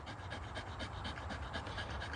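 A dog panting hard and steadily while hanging on a rope during a hang exercise, quick rhythmic breaths close to the microphone with no talk over them.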